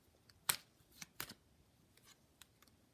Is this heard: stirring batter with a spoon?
no